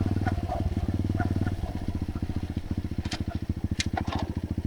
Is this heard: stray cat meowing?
no